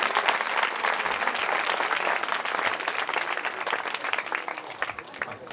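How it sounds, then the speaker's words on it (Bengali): Sustained, dense applause from an audience at a youth camp, many hands clapping steadily for several seconds at an even, loud level with a crowd feel. "আরেকবার তাদের জন্য আমরা খুব জোরে হাততালি দিই"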